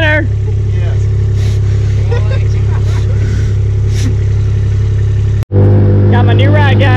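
A small 90cc ATV engine drones loudly and steadily at close range, holding a constant high idle or rev with a brief cutout near the end before resuming; voices talk and shout over it.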